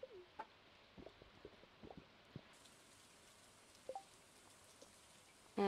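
Rain falls softly and steadily on a Stardew Valley farm, a faint continuous patter with occasional clucks from farm animals scattered over it.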